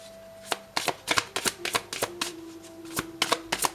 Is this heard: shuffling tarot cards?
yes